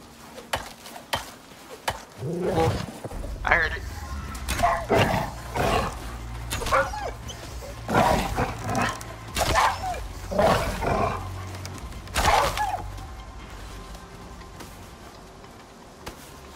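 Bear growling in the survival video game Icarus, a series of deep rough growls and snarls in bursts over about twelve seconds, fairly close, then fading to quiet ambience.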